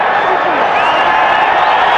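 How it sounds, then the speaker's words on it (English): Rugby crowd at a South Africa vs Samoa test match in Pretoria applauding the referee, a steady, dense wash of distant clapping and cheering from the stands that holds evenly throughout. "some people in the crowd giving the referee a standing ovation"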